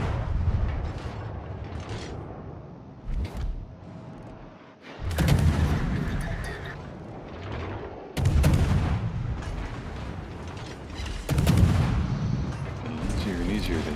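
Naval guns fire in the video game High School Fleet, Harekaze. Heavy booms come in several bursts, each followed by a long rumbling roll, and a voice speaks faintly underneath.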